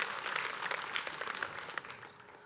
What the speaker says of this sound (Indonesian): tepuk tangan buat Ibu Magdalena